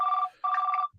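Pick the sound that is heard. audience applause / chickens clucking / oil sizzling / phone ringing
phone ringing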